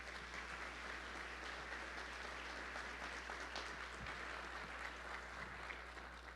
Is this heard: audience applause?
yes